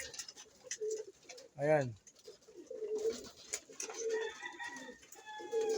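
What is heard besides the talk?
racing pigeons cooing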